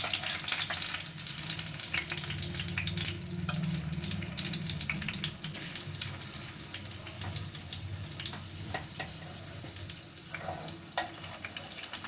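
Chicken biscuits fry slowly in oil, giving a steady, continuous crackling sizzle that stays close and even throughout, with a low background rumble and no voices.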